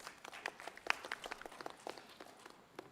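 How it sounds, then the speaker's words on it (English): Audience at a regional AI summit applauding to welcome a speaker, a scattered, fairly quiet mix of many hands clapping in a large hall. "So let's welcome him with a big round of applause."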